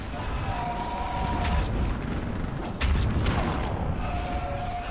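Artillery fire-support explosions in the Mass Effect 3 battle on Thessia: a dense, continuous rumble of booms and blasts, loud and close, with brief surges as heavier impacts land.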